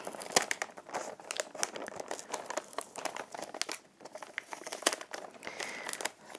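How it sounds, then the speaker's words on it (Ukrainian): Paper crinkles and tears in quick, close bursts, a steady run of crumpling and ripping with no talking. "Так, як би так, щоб не дуже рвати папір."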